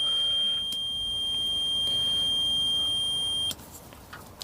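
A multimeter's continuity tester emits a steady high-pitched beep while probing an alternator diode pack on a Skoda 120, holding for about three seconds before cutting off, followed by faint clicks.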